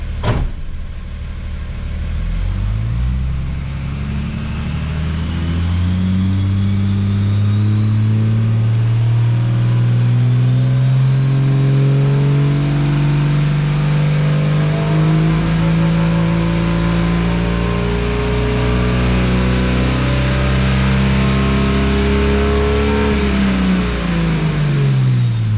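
A 1100 HP Cummins diesel truck engine fitted with a new turbo revs hard and holds high, a loud close roar climbing in pitch with rising turbo whistle before dropping back, no talk over it.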